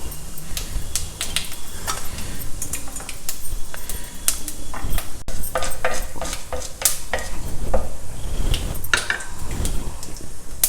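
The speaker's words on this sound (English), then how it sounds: "take 2 tablespoons of oil in the same pan. Add mustard seeds, urad dal," Mustard seeds, urad dal and cumin seeds fry in two tablespoons of oil in a pan, giving off a close, steady sizzle with sharp pops and crackles and occasional stirring scrapes.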